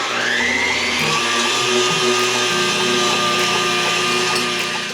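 An electric stand mixer whips meringue toward stiff peaks with a steady, loud, continuous motor whir and whisk churn. The tone shifts slightly partway through and holds close and constant with no talking.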